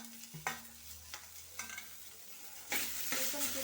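Tomatoes fry in a pan for methi paneer, stirred in a few separate scrapes over a soft sizzle that swells louder near the end.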